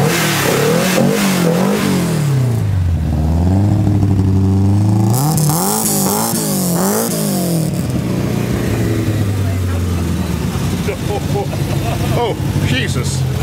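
A historic Saab V4 rally car engine revs hard, climbing and falling in repeated throttle blips before settling into a loud, steady idle, close to the listener.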